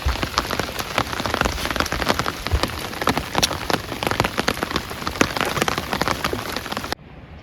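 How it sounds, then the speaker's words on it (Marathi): Rain pours steadily at a night campsite by a dam, with dense close patter of drops hitting surfaces throughout and no voices. "पाऊस बघा चालू झाला पाऊस"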